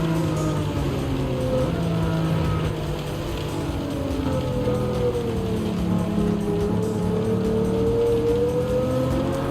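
Race car engine of a GTR in the Gran Turismo 7 racing game, a steady loud engine drone with shifting pitch through the whole stretch, no talking.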